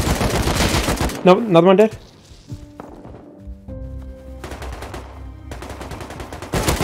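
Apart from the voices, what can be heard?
gunfire in Rust video game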